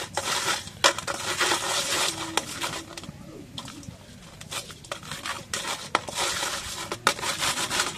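Large prawns being mixed by hand with salt and turmeric in a bowl, close wet rubbing and squelching with occasional clinks against the dish, continuous with brief pauses.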